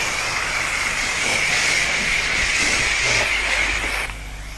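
A high-pressure wand rinses soap off a car at a self-serve car wash, making a loud, steady hiss of spraying water that drops off abruptly near the end.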